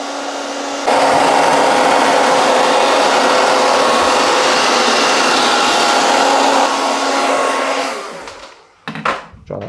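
A hair dryer fitted with a diffuser roars loudly and steadily while drying wavy hair by hand, then winds down and switches off near the end, followed by a few soft rustles.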